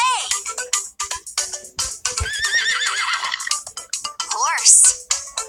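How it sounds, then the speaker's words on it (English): A children's learning toy plays a bright electronic horse whinny amid cheerful synthesized music and a sung voice, the neighs rising and falling in quick repeated bursts, loud and close. "Horse, horse, horse has hooves."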